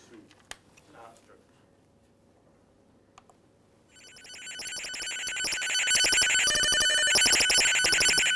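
A dense, warbling 1200 baud satellite telemetry data tone switches on midway after faint background noise and hiss, then continues steadily, buzzing and chirping in rapid alternation.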